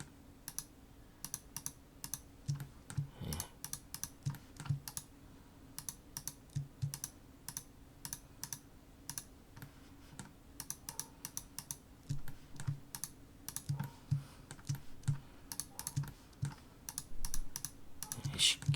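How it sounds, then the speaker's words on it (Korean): A computer keyboard is typed on steadily at close range, giving a rapid, irregular run of light clicks and key taps over a quiet background, with occasional pauses. "시프트 키 눌러서 해지."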